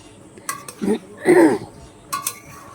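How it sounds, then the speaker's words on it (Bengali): A utensil scrapes and clinks against a cooking pot while pasta is stirred so it won't stick to the bottom, with a few sharp metallic taps and softer scraping bursts spaced apart and no talk over them. "একটু নাড়তে হবে এটা তলায় না লেগে যায়"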